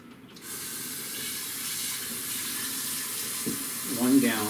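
Running tap water pours steadily into a jar for wine making, a constant hiss and splash that picks up a rising, gurgling tone near the end as the jar fills.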